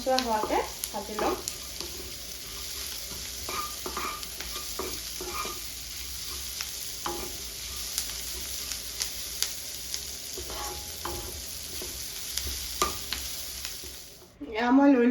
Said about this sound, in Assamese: পিঁয়াজখিনি অকণমান ৰঙচুৱা হোৱাকৈ ভাজি ল'ম